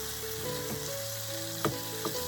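Garlic frying in a pan gives a steady close sizzle with a few soft stirring clicks, no voices.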